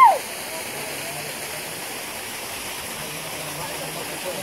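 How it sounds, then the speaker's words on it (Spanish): A waterfall pours with a constant, close rushing roar that holds steady throughout, a smooth wash of falling water outdoors at sunset. "la verdad es que ese ruido de la cascada se ve bien bonito"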